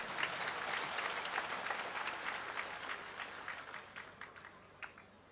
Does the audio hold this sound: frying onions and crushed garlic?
no